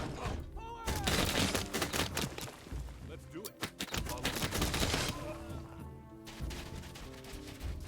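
Gunfire from troops battling in the strategy video game Humankind: rapid volleys and scattered shots crackle over dense, busy game music and effects, fairly loud and continuous throughout.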